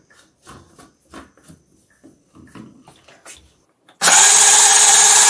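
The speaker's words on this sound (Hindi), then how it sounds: "अब इन्हें अच्छे से ब्लेंड कर लेंगे।" Soft talking gives way to a blender suddenly roaring at full power while blending sattu buttermilk with water, loud and steady for the last second.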